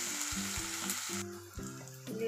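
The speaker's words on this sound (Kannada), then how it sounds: "ಇದನ್ನು ಚೆನ್ನಾಗಿ ಫ್ರೈ ಮಾಡಿಕೊಳ್ಳುವ." Onions and curry leaves fry in a hot pan, with a close, continuous sizzle and some stirring over a short stretch.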